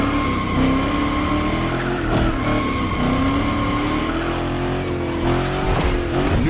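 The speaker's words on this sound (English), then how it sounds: "he's doing great at donuts" A car spins donuts in The Crew Motorfest, its engine droning steadily while the tires squeal in long wavering howls. It stays loud and continuous from start to finish, with no speech.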